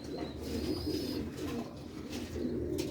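Sialkoti old-breed pigeons coo in a continuous, overlapping murmur, a close and steady rolling chorus with no voices over it.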